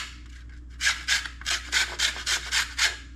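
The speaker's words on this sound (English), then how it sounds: "First we'll zest some lime" A lime is zested against a grater in about nine quick rasping strokes, each a short, close, crisp scrape, with a brief fainter scrape before them.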